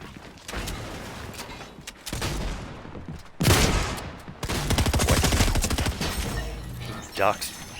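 Gunfire in the Fortnite video game, with bursts of rapid automatic shots and single heavy blasts firing in uneven clusters, loud and close, broken by short gaps.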